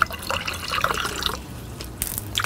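Txakoli, a Basque white wine, is poured from a height into a glass, giving a splashing, dripping patter of liquid with small bright splashes, close and moderately loud.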